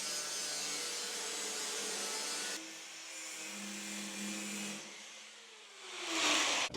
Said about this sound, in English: We're going to go ahead, get this cut quick with our grinder.